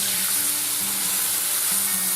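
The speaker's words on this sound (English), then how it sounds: "Deglaze your frying pan with hard cider." A frying pan used for bacon-wrapped king scallops sizzles loudly and steadily as hard cider is poured in to deglaze, a constant hiss close up with no talking.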